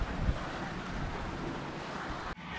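Stormy gusts sweep through Pahalgam, Kashmir, during rain, a rough continuous rush buffeting the microphone that briefly cuts out near the end.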